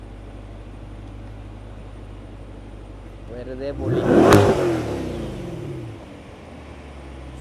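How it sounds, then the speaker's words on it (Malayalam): A Chevrolet Corvette Stingray convertible's V8 exhaust rises into a loud, close rev that peaks and falls back to a steady idle, with a person speaking briefly over it. "അതാണ് അതിന്റെ എക്സോസ് സൗണ്ട് കേട്ടോ"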